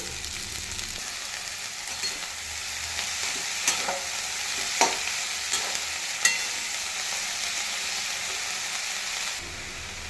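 Drumstick flowers and tender young drumstick stalks fry in a pan with a steady, close sizzle. A few sharp clicks of stirring rise over the continuous frying and run on without a break, and no one speaks.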